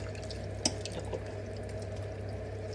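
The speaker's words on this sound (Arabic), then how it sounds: "شوفوا ده غسيل وتنظيف الدجاجه" Raw chicken being washed and cleaned under running water, a steady wash of water with a single sharp splash or knock early on, close and alone with no talk.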